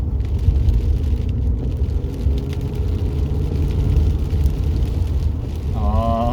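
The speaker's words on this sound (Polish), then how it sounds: "wciskamy tak do połowy gaz, dopiero wtedy auto zaczyna budzić się do życia" A 1992 Mercedes 500E engine pulling under part throttle, a steady loud low rumble that holds for several seconds, with a brief rising whine near the end.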